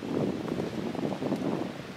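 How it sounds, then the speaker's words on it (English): Soft, steady south wind blows outdoors on a warm evening with a faint rustle, fairly quiet and continuous, with no one talking. "with a south wind blowing probably 15 gusts"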